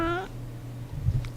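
A pet cat lets out one short, clear meow right at the start, close by, followed by a low steady hum and a faint murmur indoors during a live gaming stream.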